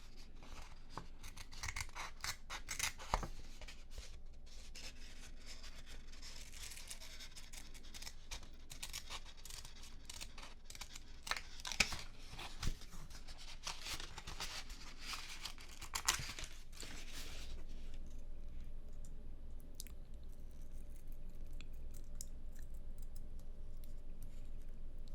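Scissors snip out tiny pieces for miniature garden furniture: many close, crisp cuts in quick irregular runs, soft and intimate, before the snipping stops and only quiet room tone remains.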